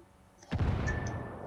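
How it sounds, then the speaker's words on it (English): A mortar round strikes with a sudden deep boom in the Ghost Recon Wildlands video game, followed by a rumbling decay, fairly distant and moderately loud. "Alright, hang on, wait for my mortar."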